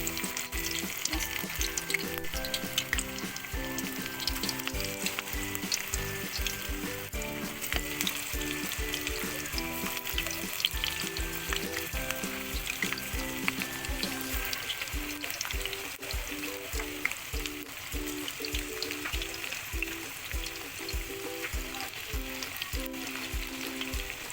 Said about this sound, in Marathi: आता आपण ते भजी तळून घेऊया मेथीच्या पानांची भजी